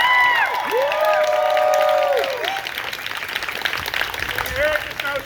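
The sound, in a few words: audience applause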